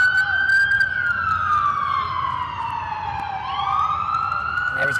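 Emergency vehicle siren wailing along North Capitol Street near a boys' lacrosse game, a long falling-then-rising tone heard at moderate distance over faint background crowd and street noise.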